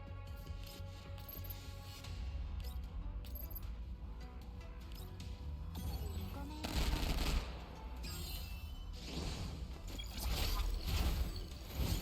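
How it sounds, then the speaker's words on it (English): Gunfire from shooting an enemy in the video game Girls' Frontline Exilium crackles in rapid bursts under a steady game soundtrack, with louder volleys swelling near the end. "Alright, keep shooting him, keep shooting."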